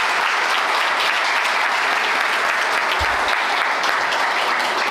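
Sustained, dense applause from an audience at a ceremony honouring the 40th anniversary of the Tio Xico folk dance group in Caxias do Sul, steady and loud throughout with no voices over it.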